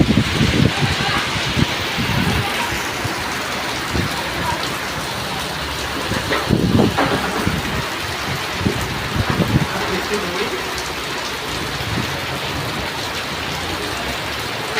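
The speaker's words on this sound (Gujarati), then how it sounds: "ચારે બાજુ ધમધોકાર વરસાદ" Heavy monsoon rain pours all around, a dense, steady, close roar of drops on surfaces throughout, with occasional louder splashes.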